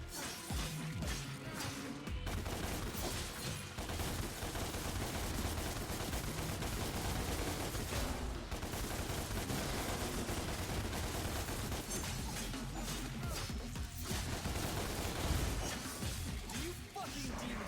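Gunfire while shooting a demon in the DmC: Devil May Cry video game comes as dense bursts of shots and crashes layered over a loud, continuous game soundtrack, with characters shouting throughout.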